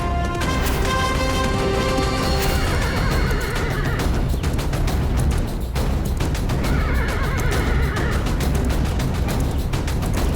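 A horse gives several loud, drawn-out whinnies within a busy battle-drama sound mix, rising clearly above a dense, constant wash of noise and hoofbeats.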